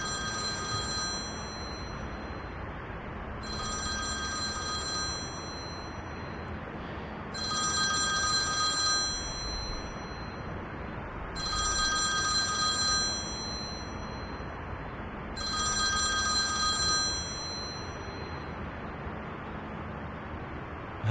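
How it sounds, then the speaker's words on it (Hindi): A telephone rings repeatedly, five bursts of bright electronic bell trills spaced a few seconds apart over a faint steady background hiss. "केमाल, तुम्हारा फोन बज रहा है, शायद कुछ अर्जेंट हो।"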